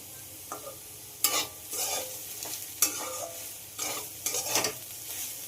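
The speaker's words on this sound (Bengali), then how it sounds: "হলুদটা দিয়ে আবারও খুব ভালোভাবে ভেজে নিতে হবে।" Potatoes frying in a pan, with a soft sizzle beneath repeated scraping strokes of a spatula stirring at an irregular rhythm.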